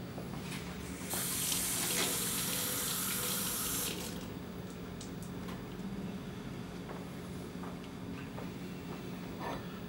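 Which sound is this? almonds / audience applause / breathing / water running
water running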